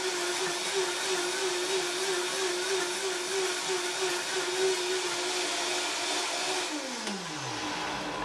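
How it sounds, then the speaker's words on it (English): A blender whirring steadily as it purees nuts for raw coconut yogurt, a loud continuous motor drone that winds down in pitch near the end. "I'm going to blend it a little longer because I want it to be a little smoother"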